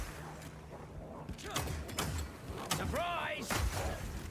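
A flash grenade bolt fired from a crossbow attachment in Path of Exile 2 lands with sharp bursts and a bright, ringing, descending whine, followed by more impact cracks, while a voice exclaims over the action.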